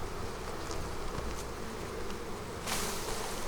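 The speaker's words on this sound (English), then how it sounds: "I am going to shake the bees down into the box" Honey bees buzzing as they are shaken from an upper box down into a hive box, a dense, steady droning swarm close by, swelling louder near the end, with no talking.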